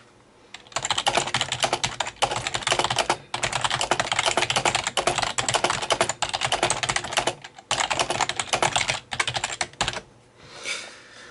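Steady, fast typing on a Logitech K350 keyboard, with dense clattering keystrokes close to the mic and a few brief pauses between bursts, no voices.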